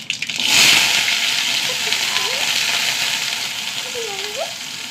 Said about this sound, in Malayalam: കുറച്ച് കടുക് ഇട്ട് കൊടുക്കുക